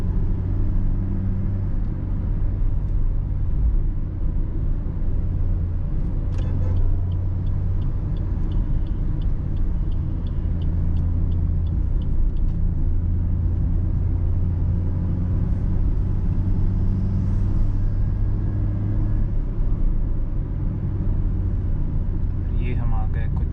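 A Maruti XL6 automatic revs past 3000 RPM in third gear, a steady, loud engine drone with road rumble that runs unbroken throughout the drive.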